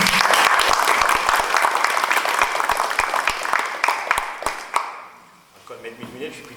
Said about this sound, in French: Je pense qu'on peut tous l'applaudir.